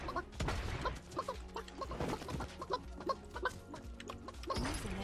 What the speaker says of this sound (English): Can't finish off the chicken, man.